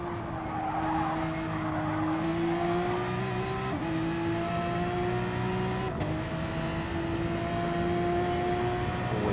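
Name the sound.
Porsche race car engine revving on track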